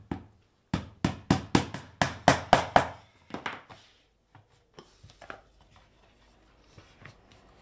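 A hammer drives tacks into handbag material with about nine sharp, evenly spaced taps in quick succession. A few fainter knocks and handling noises follow in a quieter stretch.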